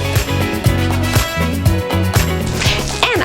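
Upbeat royalty-free background music track with steady beat and layered instrumental harmonies, playing loud and alone without talk.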